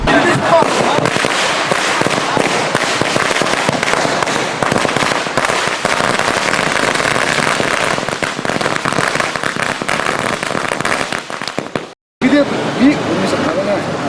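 Firecrackers at a political party's birthday celebration in Tirunelveli burst as a dense, continuous crackling barrage, loud and unbroken apart from a brief gap near the end. Crowd noise runs underneath.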